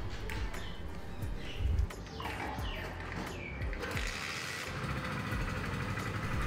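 A Hero Splendor Plus BS6 motorcycle, kick-started with its battery wire disconnected, runs with a steady, fairly quiet idling rumble after a brief bump near the start, with no talking.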